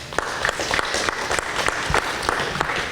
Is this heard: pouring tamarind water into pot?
no